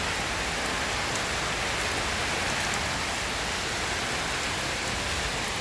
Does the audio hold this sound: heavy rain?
yes